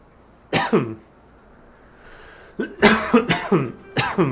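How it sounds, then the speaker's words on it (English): A close, harsh cough comes first, then after a short pause a rapid series of several hacking coughs follows in quick succession. "God, this cough just keeps getting worse."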